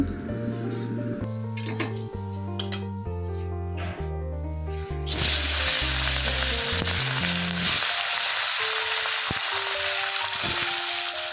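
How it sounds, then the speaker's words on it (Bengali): Katla fish pieces fry in oil. Music plays over a low sizzle at first, then a loud, dense, crackling hiss of frying takes over and continues steadily to the end. "তারপরে বাদ বাকি মাছগুলোও চলো আর সুন্দরভাবে ভেজে নেই"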